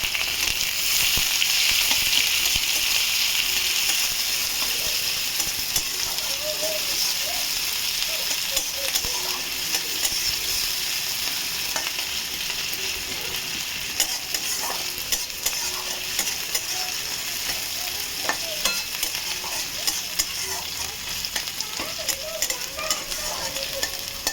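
Garlic, a small onion and a slit green chilli frying in a pan, a steady dense sizzle with crackles and occasional spoon scrapes, close and continuous with no talking.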